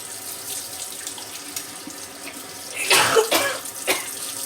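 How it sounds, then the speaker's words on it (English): Over a steadily running kitchen faucet, a person lets out one abrupt sneeze after handling black pepper while washing their hands. "Oh, I gotta sneeze."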